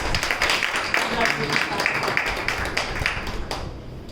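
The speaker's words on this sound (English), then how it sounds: "a big round of applause to the current champion, distinguished Toastmaster Karthik Mohan" An audience at a Toastmasters evaluation workshop applauds the current champion with a dense, steady clatter of clapping that holds, then tapers off at the end.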